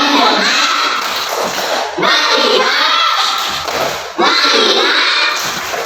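Second-grade pupils in a classroom chant and clap in unison, three loud rhythmic bursts of young voices and hand claps, with short pauses between them.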